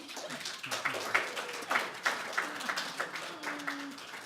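Seminar audience applauding after thanks at a press freedom event; scattered, moderately distant clapping with irregular sharp peaks, while voices talk and murmur underneath.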